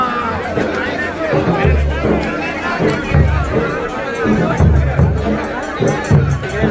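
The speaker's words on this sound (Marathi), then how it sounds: "किती गर्दी आहे बघा" A dense crowd bustles through the street during the triennial Sama Yatra 2024 procession, with a steady wash of mixed voices, shuffling and low rumbling thuds continuing throughout.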